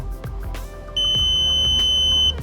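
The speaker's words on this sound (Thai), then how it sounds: "เวลาถ้าถึงค่าทอร์กแล้วจะมีเสียง" A steady, high-pitched electronic beep from a torque wrench reaching its set torque sounds for over a second amid clicks and handling noise, then cuts off.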